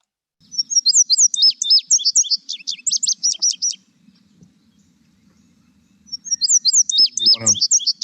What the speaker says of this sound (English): It's a female indigo bunting.